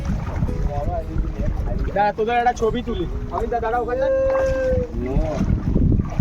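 A boat crosses the sea off Mousuni island, its low hum and wind noise running underneath people chatting and calling to each other throughout.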